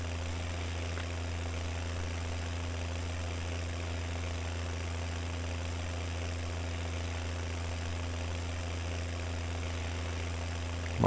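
Tractor engine in the Farming Simulator video game, hauling a heavy load slowly during harvest: a steady low droning hum that holds constant for the full length, close and unbroken, with no speech.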